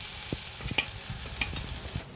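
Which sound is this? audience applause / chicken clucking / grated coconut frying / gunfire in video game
grated coconut frying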